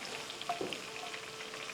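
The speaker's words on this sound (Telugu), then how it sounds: "పోపు వేసుకొని" Cumin, fenugreek and mustard tempering spices sizzle in hot oil for an amla pickle, a soft continuous frying hiss with a few faint pops, quiet and brief, with no talk.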